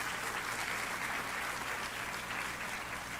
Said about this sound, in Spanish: ¿Cuántos le dan un aplauso a Él?